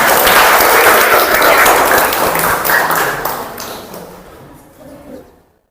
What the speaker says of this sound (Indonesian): Baik, kita kasih tepuk tangan.